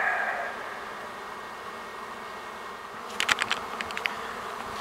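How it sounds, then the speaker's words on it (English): A swarm of honeybees gathered near a pear tree, heard as a steady, dense buzzing drone throughout, with a few sharper, closer buzzes cutting in near the end. "there is a whole lot of bees back by this pear tree."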